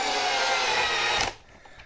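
A power tool drives a self-tapping screw into a 3D-printed plastic bracket, a short steady whirring burst that stops abruptly after about a second, leaving quiet handling noise.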